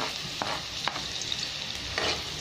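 Garlic frying in a pan for kangkong tofu with oyster sauce, a soft continuous sizzle punctuated by a few scraping stirs of a utensil, close and moderately quiet.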